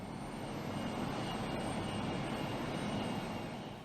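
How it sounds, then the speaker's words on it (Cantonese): Ship engines moving through a busy harbour channel near a distant shipyard, heard as a steady low rumble and drone that holds at an even level with no speech over it. "啲船聲啊，啲低頻嘅噪音咧"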